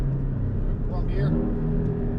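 A Porsche 718 Cayman S engine holds a steady, rumbling drone in second gear on a track, close and constant beneath a voice.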